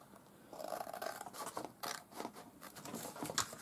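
Scissors snip through cardboard from cat boxes, trimming it even for a stationery caddy and album cover; a run of close, crisp cuts and rustles with no talking.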